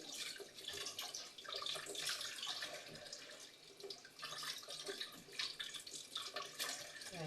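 Items washed by hand under a running kitchen tap, with a steady stream of water splashing and gurgling as things are rinsed and moved, faint and close with no talking.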